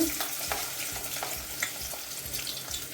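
Onion and seasoning fry for ackee and saltfish, a soft steady sizzle broken by several light stirring scrapes close by, with no talking.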